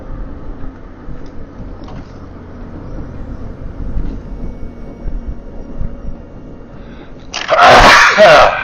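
A sneeze bursts out loudly near the end of an outdoor hike, after a long stretch of quiet ambient rumble.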